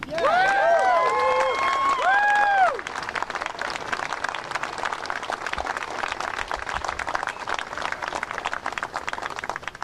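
A live stand-up comedy audience claps and cheers after a bit, a dense wash of applause that follows a short burst of whistling or whooping at the start and carries on steadily throughout.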